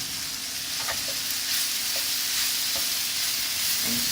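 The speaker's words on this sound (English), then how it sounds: "you just want to plonk your onion in there. Maybe just put a little bit of olive oil on those onions" Onions sizzle in olive oil in a pan, a steady close frying hiss broken by a few soft scrapes and clacks of a utensil stirring, no voices.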